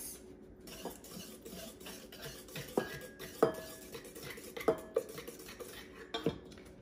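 Spoon stirring chocolate cupcake batter with vegetable oil in a bowl, soft scraping strokes with a few sharp clinks against the bowl's side, close and steady, no talking.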